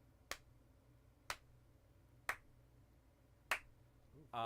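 Four sharp single claps spaced about a second apart, close and crisp against quiet room tone, made to sync a recording, followed by the start of a voice at the end.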